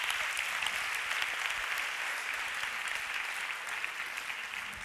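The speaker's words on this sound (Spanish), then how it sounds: "Un aplauso a Teresa, por favor" Audience applause at a professional orientation event, a dense, steady wash of clapping hands lasting several seconds without pause.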